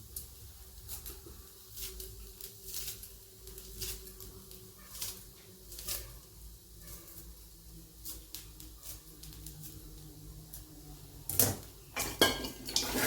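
Rice being sautéed with coriander leaves in a pan, with a spoon repeatedly scraping and clinking against the metal in irregular strokes at close range, growing sharper near the end.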